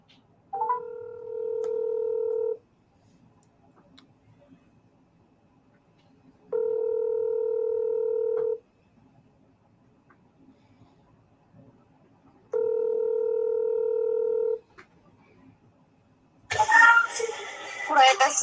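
Three long, steady telephone ringback tones, evenly spaced about four seconds apart, sound loud and clear while a call is placed again. A voice picks up right after the last ring.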